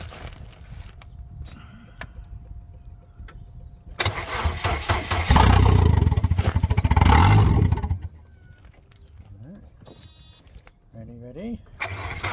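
A 1992 Volvo 460 turbo with a faulty starter system cranks from underneath the car: quiet clicks and stops, then a loud burst of cranking and a catch to a roaring start, settling back to a low idle while a person talks.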